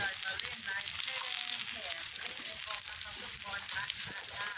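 Pork sizzles on a Thai mukata grill pan at a home birthday gathering, a continuous bright hiss and crackle of frying that stays steady and close throughout.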